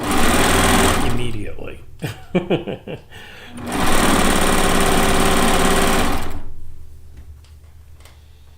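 A sewing machine piecing precut quilt strips runs in two loud, steady bursts of rapid whirring stitching, separated by a pause filled with clicks and brief speech.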